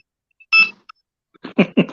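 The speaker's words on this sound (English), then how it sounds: "Beeping." A short electronic beep with a clear pure tone, followed by a quick cluster of louder buzzy bleeps, close and sharp against silence.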